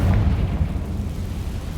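A Confringo spell explodes in Hogwarts Legacy with a single deep, booming burst up close that rumbles away over a couple of seconds.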